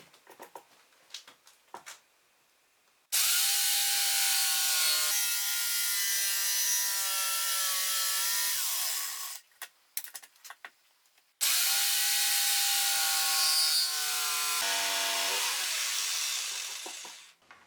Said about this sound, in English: Since the cutting blade stays so vertical, I can make touch-ups with the jigsaw.